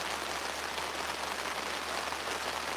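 Steady rain hisses as a dense, even wash of droplets during a fishing trip, close and constant with no voices.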